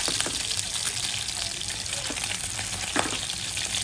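Shingala fish frying in a pan over a lowered gas flame gives a steady, dense sizzle and crackle throughout, close and continuous with no talking.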